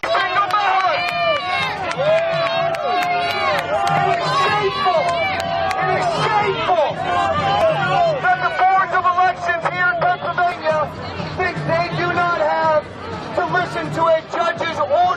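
Large crowd at a rally: a dense babble of many voices chattering and calling out, with occasional shouts and cheers, filling the space continuously at moderate loudness.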